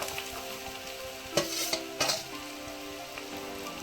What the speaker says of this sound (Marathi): आता भाजी आहे ना टाकून दिली. आता आहे ना जरासा परतून घ्यायची, जरा मस्तपैकी परतून घ्यायची.